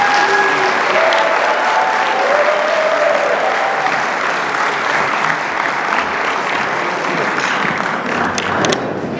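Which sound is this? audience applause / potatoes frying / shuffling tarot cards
audience applause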